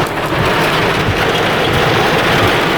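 Heavy rain pounds steadily on a truck during a storm, a loud, dense, continuous roar with no voices.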